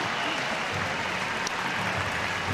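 A stadium crowd applauds at the Stade Toulouse during a 1999 Rugby World Cup match between Namibia and Canada, a broad distant wash of clapping and crowd noise, continuous under a commentator's voice.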